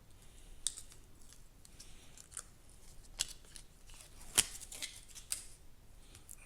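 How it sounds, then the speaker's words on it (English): Paper backing being peeled from a heat-press patch, heard as a series of faint, crisp crackles and sharp ticks scattered irregularly over a quiet background. "now all we have to do is peel off the paper back"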